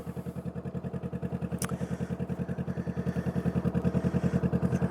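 A Honda Rebel 500 motorcycle rides along on a fair afternoon, its engine pulsing in a steady, rapid rhythm close up, building slightly toward the end with a brief click partway through.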